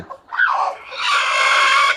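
Healthy brooding hens on a poultry farm cluck and squawk close by in a short, loud burst of two calls, the second drawn out and strained, with no talk.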